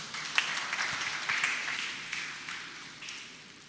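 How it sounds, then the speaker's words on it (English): An audience at a university day celebration applauds to welcome a speaker, with soft, steady clapping from a crowd, heard at a distance and fairly faint. "Please welcome him with a warm round of applause."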